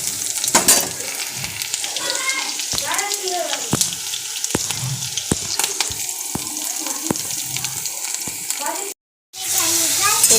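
Garlic and green chilli sizzle in hot oil, followed by ginger and onion, as the base for a chicken dish. The frying stays steady, with stirring scrapes and clinks, and the sound briefly cuts out near the end.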